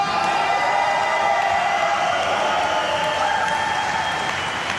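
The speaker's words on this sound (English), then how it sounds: "all the radio audience, is hearing is me talking and people cheering" An auditorium crowd applauds and cheers in a dense, steady wash of clapping and voices, loud and continuous from start to finish.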